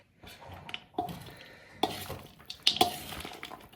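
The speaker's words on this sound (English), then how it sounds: "when I stir it and see big pieces, I'm just giving them a quick cut" A spoon stirring and cutting through cooled walnuts in a bowl, with scraping, knocks and a few sharp clinks against the bowl, close and intermittent.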